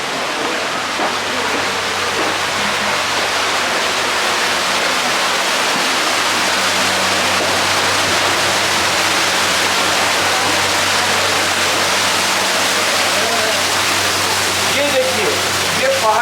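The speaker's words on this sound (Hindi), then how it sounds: "ये आबशार वाटरफॉल जो है जो हाईवे ब्रेक के अंदर बना हुआ है" An indoor waterfall inside the Highway Break restaurant in Kharghar pours in a dense, steady rushing wash that fills the space, while a voice talks over it.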